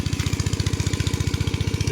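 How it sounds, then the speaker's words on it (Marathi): GK200 engine running in a mango orchard near Devgad, its fast, even chugging beat close and steady throughout with no talk. "तर आपण ते खाली इंजिन लावलेला"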